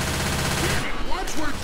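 Rapid automatic gunfire in Left 4 Dead 2, a loud dense burst that runs for under a second and then breaks off into scattered zombie cries and effects.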